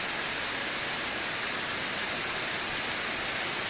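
Swollen Mahayahay Tubod River in Iligan City surging during Typhoon Odette, a steady, dense broadband roar of rushing water, loud and unbroken throughout with no voices.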